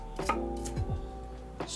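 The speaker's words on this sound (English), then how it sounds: "Let's dice this." A knife dices food on a chopping board while salmon dinner is prepared, giving a few close, crisp cuts and board knocks against a quiet room hum.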